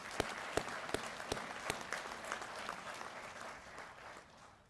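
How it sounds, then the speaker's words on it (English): Applause from a convention audience at a department convention session, a few sharp claps at first giving way to a steady, fading patter across the hall, heard alone without talk. "Let's give them another round of applause."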